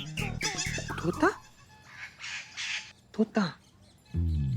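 A pet parrot lets out a few sharp, harsh squawks between stretches of nearby conversation, with people talking before and after the calls.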